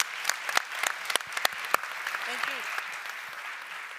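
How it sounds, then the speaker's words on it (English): An audience applauds a panel at a conference, with several loud close claps standing out over dense crowd clapping that fades slightly toward the end. A brief voice is heard midway. "So please join me in giving a huge round of applause to our panel"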